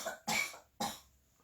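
Two separate coughs, each sharp and close, with a pause between them, brought on by stimulating the cough receptors.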